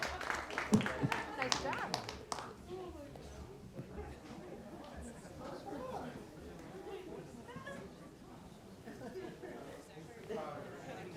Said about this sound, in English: One more round of applause, and we'll send you on your way.